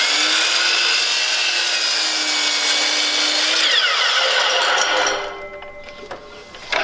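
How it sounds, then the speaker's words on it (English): A compound miter saw spins up and bites through wood, a loud steady whine with rising tone that drops off as the cut finishes and the blade winds down, leaving a faint tail. "Compound miter cut."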